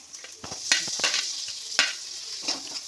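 Chopped capsicum frying in a pan for street-style pav bhaji, a soft sizzle broken by sharp scraping strokes of a spatula at an uneven pace, close by and without talking.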